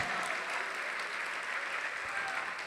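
A church congregation applauds steadily throughout at a church service, the dense clapping filling the room without letup.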